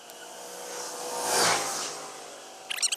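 A swarm of honey bees inside an underground water meter box, giving a steady, dense buzzing drone that swells louder around the middle as the box is disturbed, with a few sharp knocks at the end.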